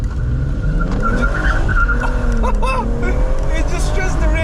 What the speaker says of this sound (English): He's gonna launch the car.